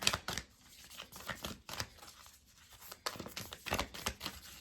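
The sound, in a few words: shuffling oddly shaped tarot cards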